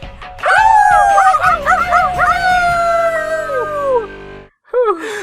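A person imitates a dog howling, giving a loud, drawn-out wavering howl with rising and falling yips, followed by a short pause and a brief second howl.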